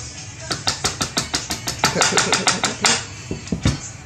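Light, rapid metallic taps strike an AR-15 rifle part during assembly, a steady run of about a dozen quick close hits followed by a few slower, louder knocks.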